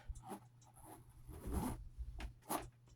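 A purse zipper is pulled in a few short, scratchy bursts close by, quiet and uneven, with brief pauses between the pulls.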